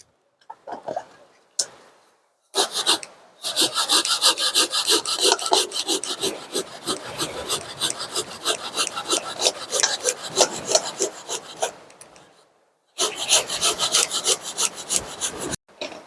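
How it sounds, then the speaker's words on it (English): Coconut is grated outdoors for Jamaican cornmeal porridge, a close, rhythmic scraping and rasping that runs in long steady strokes, pausing briefly between sessions, with faint speech in the gaps. "So I get the coconut grater."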